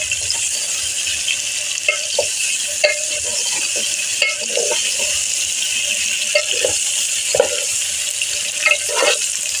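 Bottle gourd and potato fry in a pan and are stirred with a spoon: a steady loud sizzle runs throughout, broken by frequent short scraping and clinking strokes of the spoon. No voices.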